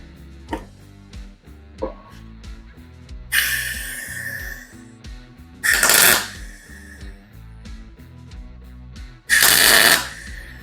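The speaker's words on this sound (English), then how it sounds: "get this one tacked in place" A chopper fender is tack welded in place: three short bursts of harsh buzzing crackle, each about a second long, separated by quieter clanks and knocks from the shop.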